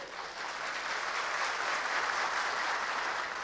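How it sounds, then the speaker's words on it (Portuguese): A crowd greets President João Figueiredo with sustained, even applause, a continuous wash of many hands clapping without a break. "Nossos aplausos para Sua Excelência o presidente João Figueiredo."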